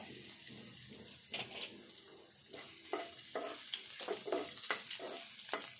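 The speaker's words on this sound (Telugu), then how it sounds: "ఎల్లిపాయలు కూడా కొంచెం దూరగా వేగాలి, వేగితేనే మంచిగా ఉంటుంది." Crushed unpeeled garlic cloves frying in oil in a pan, a fairly quiet continuous sizzle punctuated by repeated scraping stirs and light clinks, with no talk over it.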